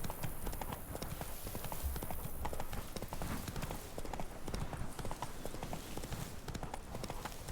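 Horse hooves clip-clop steadily in The Witcher 3, a continuous brisk rhythm of hoofbeats that runs the whole time, fairly close and prominent, with faint game ambience beneath.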